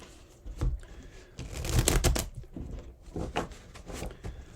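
Tarot cards being shuffled close up, a few quick riffling and flapping bursts with short pauses between them, no voices.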